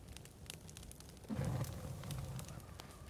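A small campfire in the survival game The Forest crackles quietly with faint scattered pops and a soft, low, rushing burn. The fire stays distant and low in level throughout.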